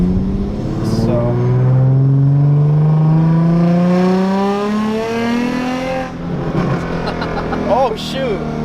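An Infiniti G35 coupe fitted with resonated test pipes revs hard and loud up close, its exhaust note climbing and falling with a long sustained pull followed by crackling pops, while voices talk briefly near the end.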